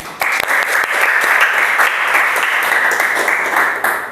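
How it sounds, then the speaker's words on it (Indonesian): A close, loud burst of applause from a room full of people, dense rapid clapping lasting about four seconds and cutting off near the end. "tepuk tangan buat semuanya"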